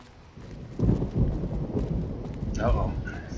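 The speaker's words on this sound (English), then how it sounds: "Uh-oh. Thunderstorm." A thunderstorm in the video game Fallout: New Vegas, a low thunder rumble swelling and rolling under rain, with a voice speaking over the end.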